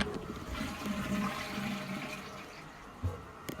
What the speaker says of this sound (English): I would have to flush the toilet really hard